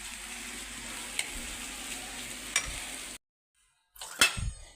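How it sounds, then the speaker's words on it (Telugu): A potato mixture fries gently in a pan over a low flame, giving a soft, steady sizzle with a couple of light utensil taps. After a brief gap of silence a louder scrape and sizzle follow. "ఆలు వేసిన తర్వాత కొద్దిసేపు ఫ్రై చేసుకుందామండి లో ఫ్లేమ్లో."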